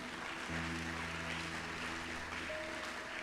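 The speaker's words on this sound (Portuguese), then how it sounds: "Aplauda a palavra do Senhor." A church congregation claps together during a worship service, a dense steady wash of applause filling the room, with a sustained organ or keyboard chord underneath.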